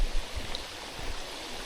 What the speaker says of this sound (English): There's a major waterfall up here.